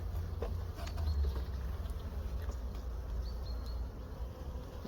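Honeybees working hard at the hive buzz in a low, steady hum close by, with faint scattered clicks and rustles from handling the frames, and no voices.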